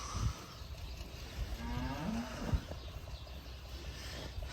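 Low, drawn-out cow moos rise from a busy farmyard background, one longer call mid-clip and shorter lowing around it.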